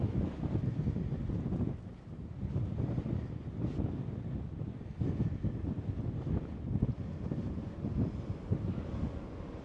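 Strong wind buffeting the microphone on the Rigi mountain top in Switzerland, a loud continuous roar that rises and falls in gusts, with no voices.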